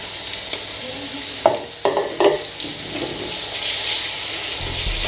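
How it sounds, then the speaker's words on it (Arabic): Chicken pieces and diced tomatoes sizzle in a hot pan with a steady frying hiss, while a few scrapes and clunks of stirring break through near the middle; no one speaks. "بنضيف طماطم. هون عملية التحريك يا ريت نخففها شوي"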